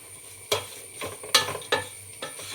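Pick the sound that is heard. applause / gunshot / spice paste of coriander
spice paste of coriander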